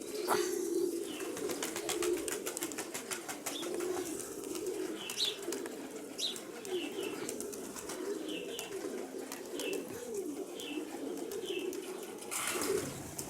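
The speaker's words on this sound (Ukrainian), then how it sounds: "Там обично голубів всегда куча." Pigeons, grey rock-dove type, coo softly in low repeated murmurs outdoors in Mykolaiv, with occasional higher chirps and rustling, at a moderate distance under light background noise.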